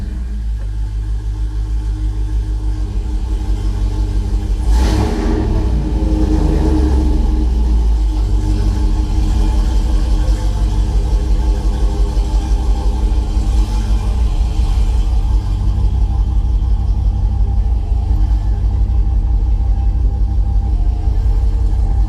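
A loud car engine with a newly fitted exhaust runs close by, a deep steady rumbling idle with a brief rev near the start that settles back into a constant throb.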